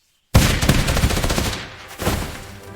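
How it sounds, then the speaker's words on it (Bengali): Rapid gunfire from a video game bursts in after a moment of silence, a loud, dense run of shots that fades slightly toward the end. "এইভাবে গুলি মারি।"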